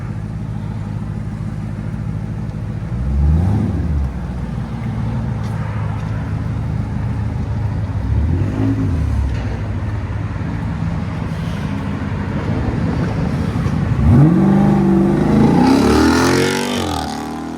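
A Jeep Grand Cherokee SRT with a 6.4L HEMI V8 rumbles at a steady idle nearby, punctuated by a few short revs and a louder, longer rev building near the end.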